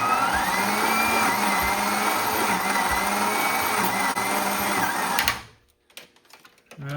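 A BMW M5 V10 turns over slowly on the starter during a compression test, giving a steady, loud mechanical whir with a rhythmic pulse that runs for about five seconds, then cuts off to near silence with a few faint clicks.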